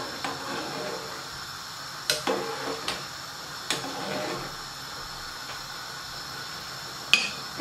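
Pigeon peas and rice in a cooking pot get stirred, a spoon knocking and scraping the pot in a few sharp, scattered clicks over a low steady background.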